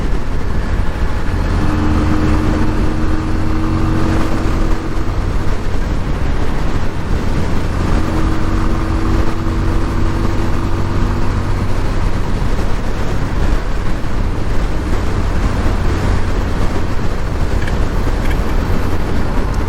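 A 1988 Yamaha Virago 250 motorcycle with a newly installed carburettor cruises at full throttle on a highway, its engine a steady, loud droning hum under constant wind rush, unbroken for the whole stretch.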